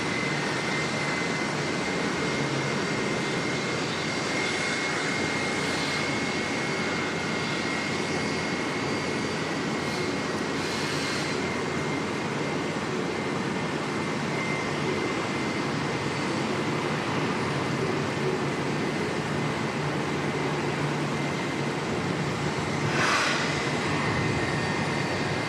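A Qantas jet arriving from Melbourne as flight 151 at Auckland Airport produces a long, steady, moderately distant engine roar and rumble that holds throughout with no talking.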